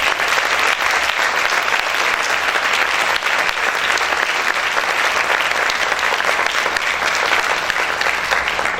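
A church congregation applauds loudly and continuously, a thick, even wash of many hands clapping at once that holds steady and strong throughout.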